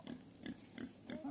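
Pigs on a farm grunt in a quick series of five or so low, close oinks, fairly quiet, with no talking.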